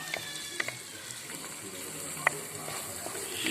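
Sliced onions cook in a pan for a chicken parts gravy, a soft steady sizzle with a few faint clicks and taps; a voice is faintly present.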